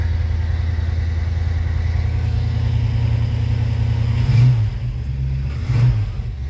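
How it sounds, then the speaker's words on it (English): A Ford FE truck engine, cold-started in 20-degree weather, runs steadily as it comes down off fast idle, a loud, close, low rumble with two brief bumps in revs near the end. "Coming down off fast idle."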